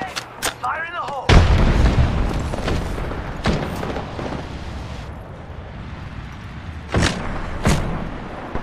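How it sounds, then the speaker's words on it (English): Grenade blast in the battle-royale shooter Apex Legends, a loud low boom rising out of busy game audio, with sharp gunfire cracks and shouted voices around it. "Grenade! Fire in the hole!"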